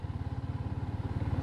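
A Yamaha Sniper 155R motorcycle runs close by, its engine throbbing in a fast, even pulse of low thumps with a rough mechanical rattle and no voices.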